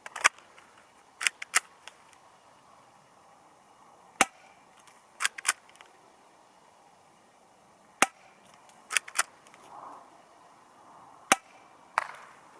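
Airsoft CZ75 SP-01 Shadow gas pistol firing during an accuracy test, a dozen or so sharp isolated cracks spaced irregularly a second or more apart, loud and close over a quiet background.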